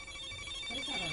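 A motion sensor alarm sounds indoors as a steady electronic tone that rings continuously for the whole stretch at moderate level, with faint voices in the background.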